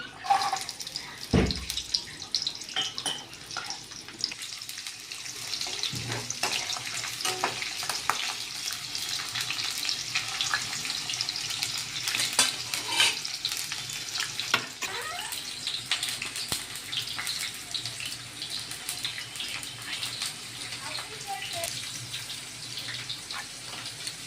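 Peeled garlic frying in a kadhai on a gas stove, giving a continuous bright sizzle with occasional clinks and stirring noises, close and steady throughout, without speech.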